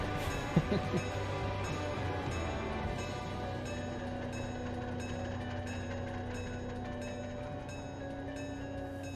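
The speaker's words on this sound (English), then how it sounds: "The real train outside." A real train passes outside a building where a model railroad operating session is underway. It is heard as a faint, steady, distant rumble with a few brief knocks near the start.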